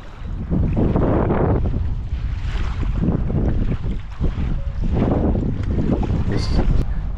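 A boat out on the water at Half Moon Beach in Al Khobar, wrapped in loud, steady wind buffeting and surf wash, with faint indistinct voices in the background.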